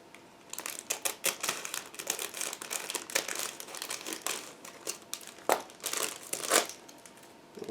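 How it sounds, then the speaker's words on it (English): A plastic bag being crinkled and torn open to free the lower hull part of an IBG Models 1/35 Rosomak kit, with close, sharp bursts of rustling that come and go irregularly, no talking. "which is also packed into the separate plastic bag, and I will try to open it."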